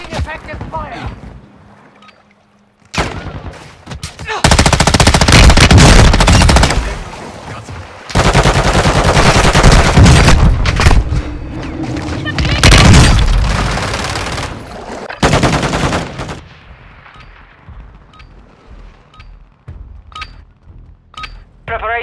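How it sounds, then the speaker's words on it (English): Gunfire in a Call of Duty battle royale match erupts in loud, dense bursts of automatic weapon fire and booms, separated by brief lulls, with a voice speaking between the volleys. "Taking effective fire!"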